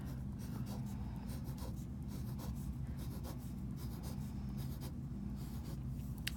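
Pen or pencil scratching on paper while a bar diagram is drawn by hand, a run of close, soft rubbing strokes in an uneven rhythm over a low steady room hum.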